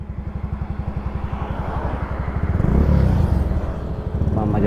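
A motorcycle rides along a road shortcut to Sta. Isabel, Kawit, Cavite, its close engine thumping in a quick, even pulse that swells louder midway through.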